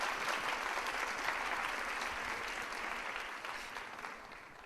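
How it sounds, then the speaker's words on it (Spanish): An audience at a lecture gives the speaker a burst of dense, steady clapping that holds strongly and then begins to thin slightly toward the end, with no voices over it. "Les pido un aplauso para nuestro conferencista."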